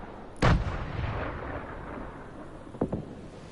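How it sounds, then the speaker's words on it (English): Grenades explode in a video game firefight, two heavy booming blasts spaced a few seconds apart, the first loud and close with a rumbling tail, the second slightly sharper and lighter. "I'm chucking my grenades."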